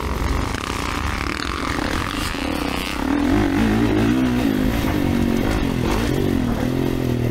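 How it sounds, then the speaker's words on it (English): A 2024 Kawasaki KX450 motocross bike ridden on a dirt track at a motocross park, its loud engine revving and shifting continuously up close, with wind buffeting and clattering throughout. "Of course, riding the 24 KX450."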